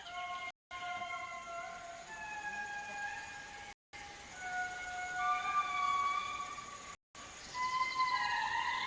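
Indri lemurs singing their morning calls, long wailing tonal notes that glide and overlap in a steady chorus, loud and sustained over about nine seconds with brief gaps of silence.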